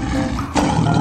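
A lion gives a single short, throaty roar that rises abruptly midway and carries loudly to the end of the brief moment.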